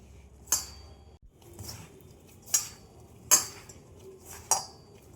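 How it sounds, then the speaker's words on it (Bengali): Sago flour dough gets kneaded with small splashes of water in a bowl, heard as several sharp clinks and knocks against the dish spaced over a quiet background of soft rubbing. "অল্প অল্প করে জল দিয়ে আমি একটা ডো তৈরি করে নেব।"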